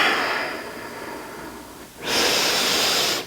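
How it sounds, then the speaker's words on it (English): Deep, close breathing during a yoga twist: one long, airy breath fades out, and after a brief pause a second strong breath follows, with no talk. "Breathing nice and deep here."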